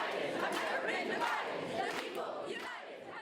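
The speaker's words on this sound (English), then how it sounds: "Protesters stood in the lobby entrance chanting, holding signs, and rally leaders spoke through megaphones speaking to the crowd." A protest crowd chants together in an office lobby entrance, a steady, dense wall of raised voices filling the whole stretch at close range.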